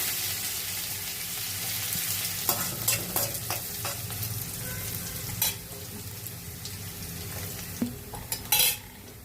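Cumin, green chili and onion fry in a pan for a Maggi noodle breakfast, a low steady sizzle with scattered stirring scrapes and clanks of a spoon against the pan, close by and without talk.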